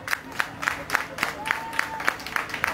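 A crowd at a village evangelism meeting claps in a quick, even rhythm, sharp regular beats over a low murmur of voices with a faint sustained tone in the background.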